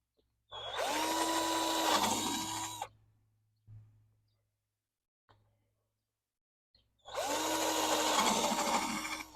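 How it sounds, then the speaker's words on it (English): A power drill whirs loudly in two bursts of a few seconds each, pitch rising as it spins up, separated by quiet with a couple of faint clicks. "drill a couple holes here."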